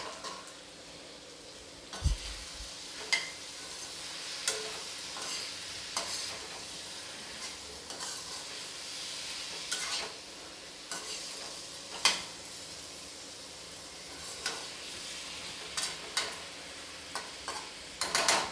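Pumpkin sabzi made without onion or garlic sizzles softly in a pan while a spoon stirs it, producing repeated scraping clicks and taps over a steady low frying hiss, no voices.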